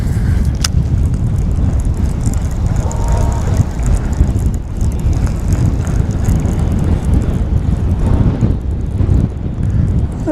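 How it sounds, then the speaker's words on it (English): Strong wind buffets the microphone beside Lake Chickamauga, a loud, continuous low rumble with gusty fluctuations throughout and no clear talk over it. "What is up with this wind?"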